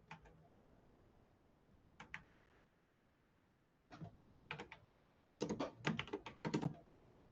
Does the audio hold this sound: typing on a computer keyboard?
yes